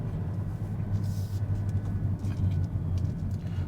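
Steady low rumbling road noise heard from inside a moving 2021 Hyundai Kona Hybrid, a constant drone with faint hiss, no voices.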